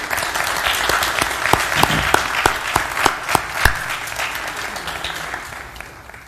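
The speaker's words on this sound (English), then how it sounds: "round of applause for them." Audience applause at a mayoral candidates forum: dense, continuous clapping from a crowd with a few louder, sharper claps standing out near the front, gradually thinning toward the end.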